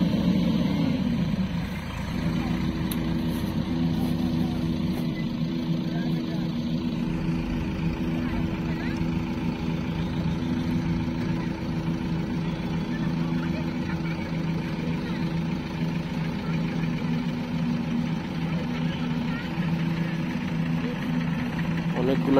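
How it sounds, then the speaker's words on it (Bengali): A power tractor's diesel engine idles at a road-building site where tractors load soil, giving a steady, close, low rumbling drone that barely changes across the clip. "এটা হলো পাওয়ার ট্রাক্টর ডিজেল ইঞ্জিন"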